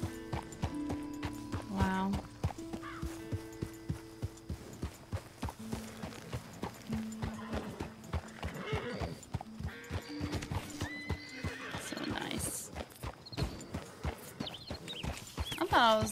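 A herd of wild horses in Red Dead Redemption 2 thunders past with clattering hoofbeats and repeated neighs and whinnies, close and loud, while a person speaks briefly over them.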